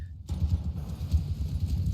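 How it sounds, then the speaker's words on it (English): A continuous dull rumble of many horses' hooves, likely a cavalry charge in the video game Mount & Blade Bannerlord, thuds low and steady after a brief quiet start. "Are they coming at us with another round of horses"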